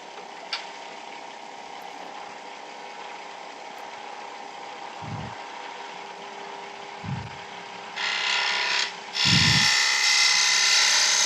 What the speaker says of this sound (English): So this is squaring up the ends to the end of the tube.